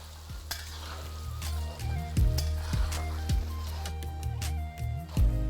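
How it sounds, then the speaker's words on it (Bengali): Potatoes fry in hot oil over medium-high flame with a constant sizzle, punctuated by repeated knocks and scrapes of a spatula stirring in the pan. "যার মধ্যে আমি আলুগুলোকে দিয়ে ভালো করে ভেজে নিচ্ছি"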